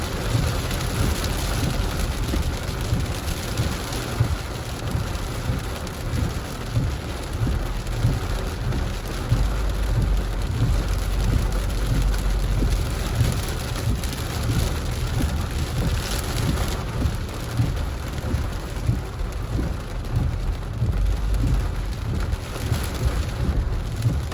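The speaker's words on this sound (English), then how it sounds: "The rain is coming down even more." Heavy rain pours steadily and densely, a constant loud hiss of drops drumming on surfaces with no break.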